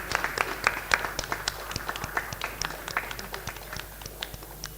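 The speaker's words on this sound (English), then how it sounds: "Let's give a warm round of applause," Scattered applause at a regional workshop on biomass co-firing in thermal power plants, a modest audience clapping in uneven, sparse bursts that thin out over a few seconds, with a faint voice in the background.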